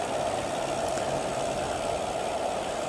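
A Cessna 172's engine drones at reduced throttle in Microsoft Flight Simulator 2020, a steady, loud, unbroken hum with no voices.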